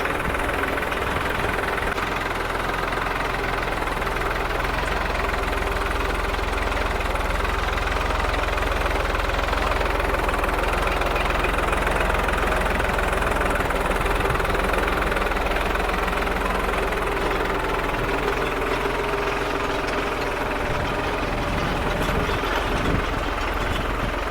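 A 50-horsepower tractor engine runs steadily nearby, a deep continuous rumble with a knocking, vibrating texture throughout.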